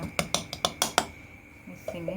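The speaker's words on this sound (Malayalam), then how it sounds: "എല്ലാം കൂടെ മിക്സ് ചെയ്തുകൊണ്ടിരിക്കുകയാണ്." A spoon clinks sharply against a dish about six times in quick rhythm while a pearl spot fish masala marinade is mixed, then a pause and a faint voice at the end.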